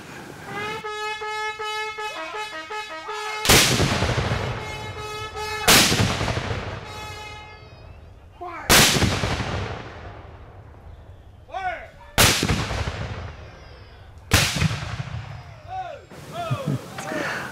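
Loud cannon blasts boom one after another at a Civil War encampment, about five heavy shots spaced a couple of seconds apart, each leaving a long rumbling echo, with a sustained tone underneath.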